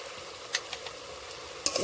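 Ground spices, turmeric, coriander and Kashmiri red chilli powder, frying in mutton fat in a pan, a soft steady sizzle with a few scraping stirs of the spoon close by.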